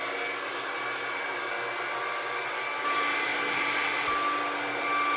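A hair dryer blows steadily as hair is dried indoors, a loud, constant whirring drone with no pauses.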